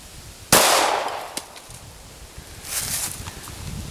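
A gunshot striking a blue can set up as an outdoor target, a single sharp loud crack followed by a fainter click and a later burst of rustling noise, with no talking.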